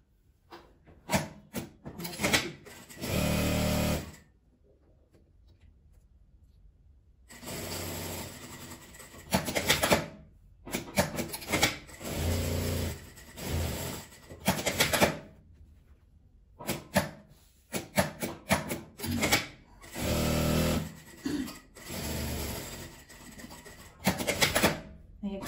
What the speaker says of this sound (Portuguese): E vou costurar em volta dela.